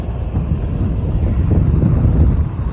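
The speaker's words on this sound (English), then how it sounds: "Very windy." Strong wind at coastal sand dunes buffets the microphone in a continuous loud roar, with a rumble like surf or a boat underneath.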